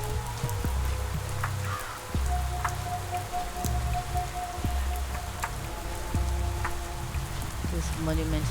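Steady rain falls in the video game Pathologic 3, a constant close wash of drops pattering on surfaces with a low rhythmic game sound beneath, continuous throughout.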